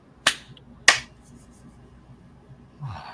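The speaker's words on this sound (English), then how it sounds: "Now clap your hands together once loudly." Two sharp hand claps ring out alone in a quiet room, about half a second apart, followed by a short faint rustle.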